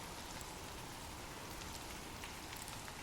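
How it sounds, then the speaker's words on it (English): Steady broadband rain falls throughout, a dense, even hiss of drops on surfaces with no voices or other sounds. "drift off to sleep with rain"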